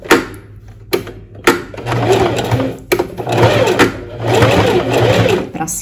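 A domestic sewing machine runs a straight seam along traced lines on fabric for a high-neck blouse, its motor whirring in steady bursts with short pauses between runs, close and moderately loud.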